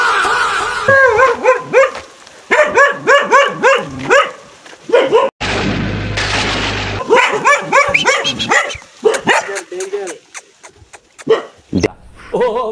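A dog barks and yips repeatedly at close range in a rural farmhouse setting, with rapid bursts of loud barking broken by a short noisy gap.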